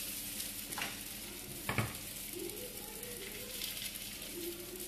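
Crêpe batter cooking in a crêpe pan gives off a low, steady sizzle with a couple of brief scrapes or taps near the start, quiet and without talk.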